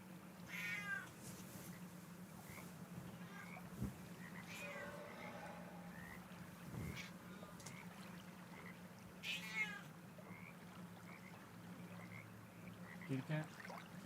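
A cat meows repeatedly, close and insistent, with short cries spaced every couple of seconds over a low steady hum and faint background noise.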